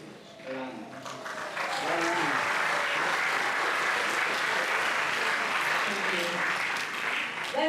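A crowd at a college graduation ceremony in Pohnpei breaks into sustained, dense applause that swells after a brief spoken line and holds steady, filling the hall.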